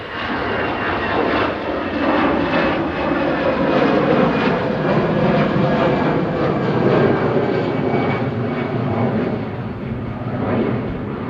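An EasyJet Airbus A320 departing for Jersey gives off a steady, loud jet engine roar that swells and holds throughout, with no talking.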